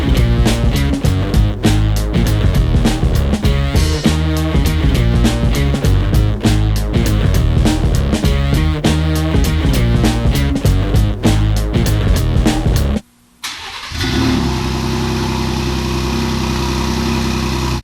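A 2020 Ford Raptor engine runs on a dyno, giving a loud sustained mechanical drone with rapid repetitive pulses, then a sudden brief cutoff near the end before the engine note returns and settles.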